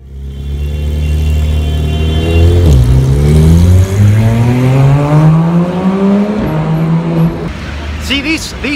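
A supercar revs and accelerates on a London street, its engine loud and close with rising and falling pitch sweeps as it pulls away, and people talk over it.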